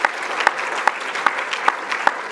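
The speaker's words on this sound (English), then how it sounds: "Go ahead, you can clap." Audience applause fills the room at the Tri County Annual Awards Dinner for a Hall of Fame honoree, a steady wash of many hands clapping with a few sharper claps standing out at a fairly regular beat.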